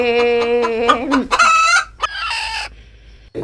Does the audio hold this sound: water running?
no